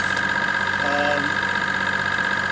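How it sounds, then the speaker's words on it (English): A sailboat's engine hums continuously at an even pitch, close by and unchanging, with a faint low rumble beneath, on a flat calm sea with virtually no wind. "as you can hear, the engine's on."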